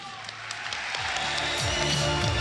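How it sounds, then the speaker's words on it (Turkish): Crowd applause for two boxers after a Turkish Boxing League bout, a steady wash of many hands clapping that builds slightly in loudness, with faint voices underneath. "her iki sporcumuza da kuvvetli bir alkış isteyelim"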